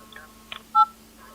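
A single short telephone keypad tone sounds briefly, preceded by faint soft clicks, heard alone against a quiet background hum.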